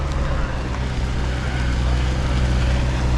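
Mazda MX-5 Miata NC3 sports car with a baffled exhaust, heard from inside on track as a steady, loud engine and exhaust drone with low rumble and road noise throughout.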